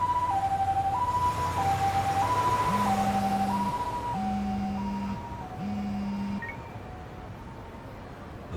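Ambulance siren in the Lost Judgment video game, a two-tone wail alternating steadily and fairly loud, joined by a lower stepped tone midway, both gradually fading as the vehicle draws away; no talk.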